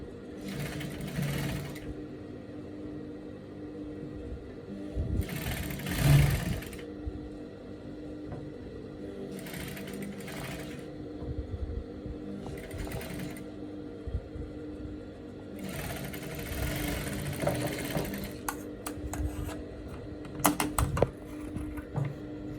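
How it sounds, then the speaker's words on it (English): A sewing machine top stitching a dress runs in several bursts of steady rattling, close and clear, with quiet pauses of background hum between the runs and no talk. "I'll top stitch as well, just like I did to the front side."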